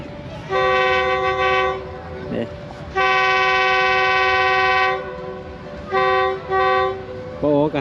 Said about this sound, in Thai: เดี๋ยวได้รถไฟมาแล้วพี่น้อง